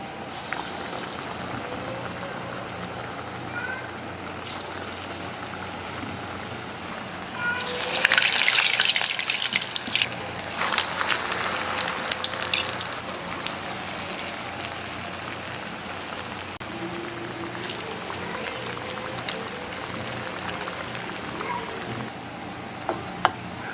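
Urad dal medu vada batter dropped into hot oil, a steady crackling sizzle throughout that swells louder for a few seconds as fresh batter hits the oil, then settles back to a bubbling hiss.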